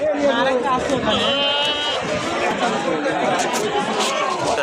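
Goats bleat amid a busy livestock market in Tebaria, Natore, with a steady chatter of voices and crowd noise around them, one clear bleat standing out near the start.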